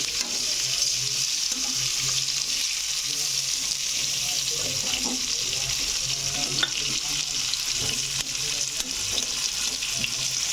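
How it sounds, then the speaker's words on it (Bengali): Chopped onions frying in oil in a smoky home kitchen pan, a close, steady crackling sizzle with scraping stir strokes throughout and no clear talk. "পেঁয়াজ কুচি দেবো এবার একটু।"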